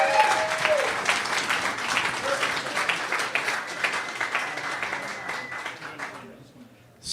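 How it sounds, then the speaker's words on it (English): Sustained audience applause greets a keynote speaker at a governance day event held at a golf venue, a full crowd clapping steadily with some cheers and voices mixed in before it fades out. "Everyone give a round of applause and a warm welcome to Charles Hoskinson."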